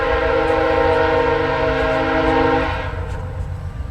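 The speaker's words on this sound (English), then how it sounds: "sounds as if we've got some more Via trains coming" Via Rail passenger trains rolling past on a model-railway layout with a passing siding, a loud steady rumble with sustained horn-like tones that drop away near the end, no talk.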